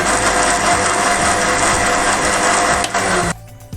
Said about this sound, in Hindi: इसको हम थोड़ा सा ग्राइंड करेंगे।